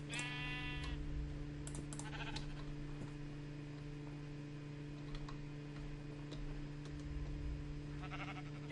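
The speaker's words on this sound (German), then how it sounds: "Auch nur ein Schaf." Sheep bleating in the video game Minecraft, a short wavering bleat at the start and fainter bleats later over a steady hum, with clicks and keyboard tapping.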